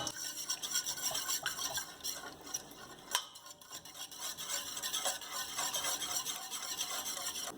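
Eggs being whisked into a warm spiced bun mixture in a bowl make a quick, continuous scratchy clatter of the whisk, fairly quiet and close, with one brief louder knock partway through.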